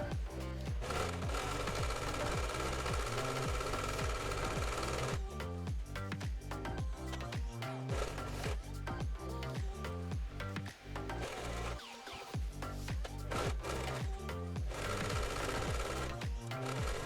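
A sewing machine stitches a zipper onto a sling pouch, a loud, close, rapid mechanical chatter running in bursts with brief pauses between runs, and no voices.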